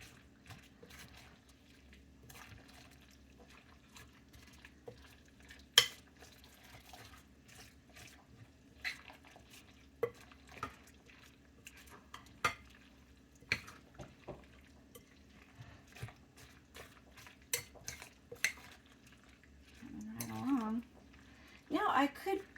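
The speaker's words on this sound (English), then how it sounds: "Mix that all around." A thick horse treat mixture with applesauce is stirred in a bowl, giving faint soft wet squelches and scattered light knocks, with a voice speaking near the end.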